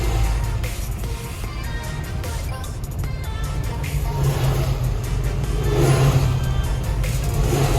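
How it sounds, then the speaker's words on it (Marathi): Army vehicles drive along a mountain road in Ladakh, a steady engine rumble with tyre and road noise that builds slightly as they pass, heard from close by inside a moving vehicle. "आर्मीच्या गाड्या बघा फ्रेंड्स."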